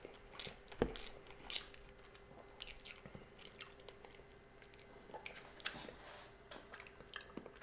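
Crunchy bites and moist chewing of a shrimp tempura sushi roll, heard close and fairly soft, with irregular crisp crunches and squishy mouth sounds and no talk.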